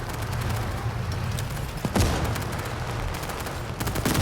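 Sustained bursts of gunfire fill a World War 3 video game battle, a steady dense rattle with one louder blast near the middle, no voices.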